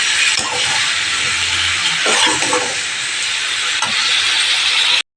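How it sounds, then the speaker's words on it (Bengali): Prawns and vegetables are sautéed in a pan with salt and turmeric. A loud, steady sizzling hiss sounds close by, with a few soft stirring scrapes, and it cuts off abruptly at the end. "নুন হলুদ দিয়ে ভালো করে কষাচ্ছি"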